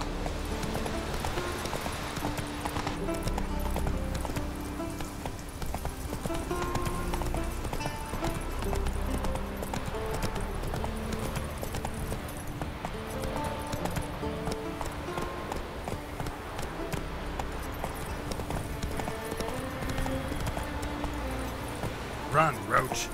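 Roach the horse galloping across Skellige in The Witcher 3, a continuous clip-clop of hooves under game music and effects, with a voice speaking at times.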